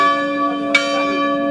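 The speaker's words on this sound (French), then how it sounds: "la marraine a procédé au rite de bénédiction de la nouvelle cloche" A newly blessed church bell at a church consecration rings loud and close, one sustained metallic tone with rich ringing overtones and a light clang partway through as it keeps sounding.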